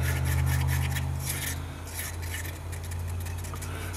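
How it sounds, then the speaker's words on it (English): A tool scrapes around the sides and bottom of a mixing cup of polyester resin, giving a steady close rasping rub that continues throughout with a low hum beneath. "You scrape the sides real good,"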